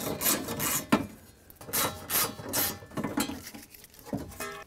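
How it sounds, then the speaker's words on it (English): Phillips screwdriver removing three screws from the inside door panel of a 2003-2008 Toyota Corolla: close, repeated raspy scraping and rubbing strokes of metal turning against plastic, with a few sharper clicks between them. "with the Phillips head screwdriver, let's remove these three screws so we can get this panel off of here"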